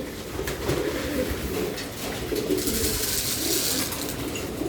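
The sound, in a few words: racing pigeons cooing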